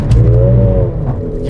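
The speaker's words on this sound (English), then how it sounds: "Let's put the ESP into Sport mode, and hopefully I can do a launch control now" Mercedes-AMG CLA 45 pulling hard from a launch-control start, a loud, close engine note whose harmonics climb steadily through the gears with strong low rumble throughout.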